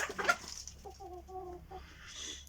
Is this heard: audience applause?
no